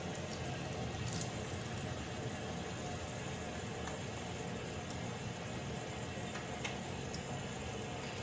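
Soft, steady rush of running tap water as hands lather melted soap, a constant faint splashing wash with no distinct events and no speech.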